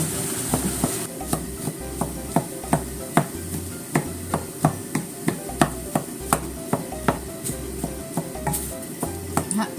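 Boiled potatoes are tossed and shaken in a pan to dry them out like kofuki-imo, giving a steady rhythm of light knocks and clatters over a soft sizzle, with no talk.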